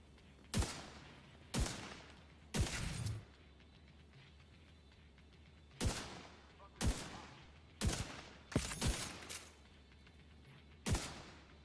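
Heavy, booming video game weapon shots ring out one at a time, about nine in all, spaced irregularly with short echoing tails. The shots stand mostly alone over a quiet background.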